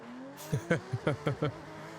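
Game car in Forza Horizon 6 drifting, with six short, sharp tire-squeal chirps in quick succession over a steady engine drone, fairly close and loud, no talk.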